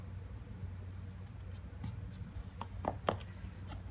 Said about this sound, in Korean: 자, 이제 눈동자도 색칠 한번 해볼게요.